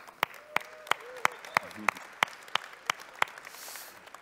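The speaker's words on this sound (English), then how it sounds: "Let's have another round of applause." At a 2017 Hyundai IONIQ unveiling, about a dozen sharp, evenly spaced claps ring out in a steady rhythm over a quiet room. The sound is fairly faint overall, with a little background noise and a brief voice.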